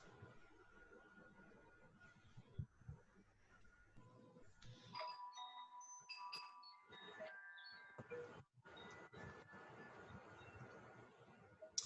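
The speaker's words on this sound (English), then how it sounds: "Stanley, your chimes destroyed the silence." Chimes ring out at a Rotary club meeting during a moment of silence, a series of bright, sustained tones sounding in a quiet room with a few soft background noises between them.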